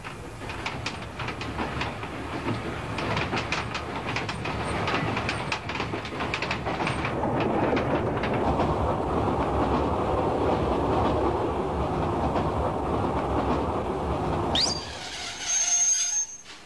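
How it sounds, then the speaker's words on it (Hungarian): A train gets under way and runs with a loud, continuous rumble and clatter of wheels on rails, rising in intensity, then a sharp squeal and hiss near the end. "Hallod, indíts el a vonatot."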